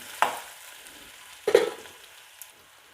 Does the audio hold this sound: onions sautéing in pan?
yes